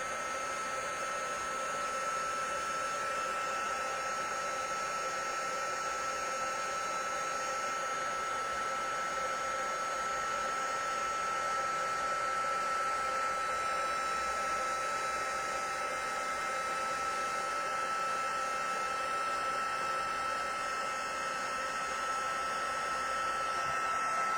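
A heat tool melts white embossing powder on white card stock, blowing as a steady, unbroken whir that holds at an even level throughout with no one speaking.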